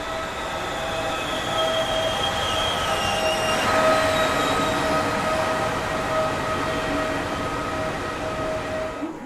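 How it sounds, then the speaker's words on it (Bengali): A train rolls into Majhdia station with a steady, loud rumble and a high, drawn-out squeal of wheels on the rails; no voices. "ট্রেনটা ঠিক সময়ে মাঝদিয়া স্টেশনে পৌঁছলো"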